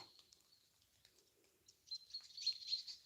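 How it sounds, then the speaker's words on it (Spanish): Several birds chirp and tweet in the distance in the morning, quiet at first, then brighter, louder calls overlapping toward the end. "Están cantando esta mañana los pájaros."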